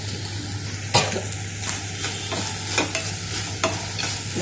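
Vegetables with pizza seasoning stirred and mixed in a pan over a gas flame, a steady sizzle beneath periodic scraping strokes of a spatula, close and moderately loud with no talking.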